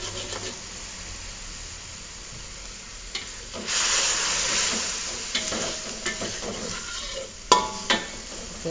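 Seasoned broth for bakso tahu with a soft tauco-like aroma simmers in a pan, giving a steady low bubbling and sizzling hiss, with a louder steamy surge midway and a few clinks and stirring knocks.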